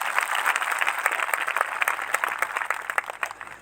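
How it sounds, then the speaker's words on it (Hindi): Congregation at a joint revival gathering giving a loud round of applause to welcome the preacher, many hands clapping in a busy, uneven patter that stays strong throughout without any talk. "एक जोरदार ताली प्रवेश के लिए"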